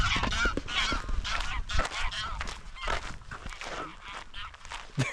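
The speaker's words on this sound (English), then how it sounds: "Oh, look at these geese." Geese honk repeatedly at close range beside a Swedish lake, their harsh calls overlapping in a noisy cluster with some rustling around them.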